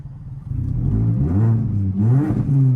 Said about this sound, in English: Hold on, I'm gonna do a burnout for you.